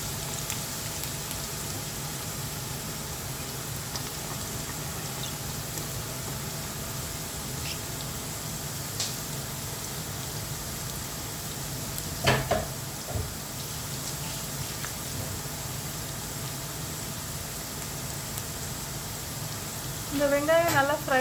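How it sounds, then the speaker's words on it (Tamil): Chopped onions and split green chillies fry in a pan for mutton pulao, giving a steady, dense sizzle that holds evenly throughout, with a few brief louder clatters near the middle and end. "இந்த வெங்காயம் நல்லா ஃப்ரை ஆகட்டும்."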